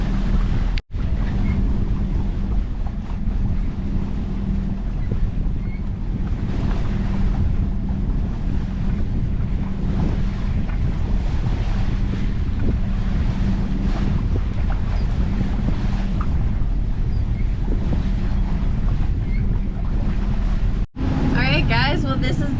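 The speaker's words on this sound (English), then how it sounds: "this is the Atlantic Ocean" Boat heading out of an inlet onto the open Atlantic Ocean near St Augustine, with steady loud wind buffeting the microphone and a constant low rush of waves and hull noise throughout, one brief dropout near the start and another near the end.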